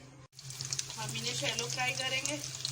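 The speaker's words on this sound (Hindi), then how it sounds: "अब हम इन्हें शैलो फ्राई करेंगे।" Gola kebabs shallow frying in a pan, a brief dropout followed by bright sizzling and popping oil that builds and holds steady, close and fairly loud.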